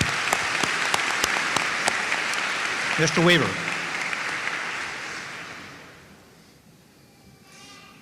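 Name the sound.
audience applause at a commencement ceremony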